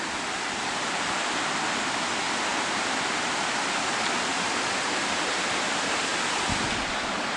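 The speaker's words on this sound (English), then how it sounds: "The creek comes along, makes its way down." Dix Creek rushing down a sloping rocky bed toward the falls in Rabun County, Georgia, a loud, constant broadband roar of flowing water close by with no voices.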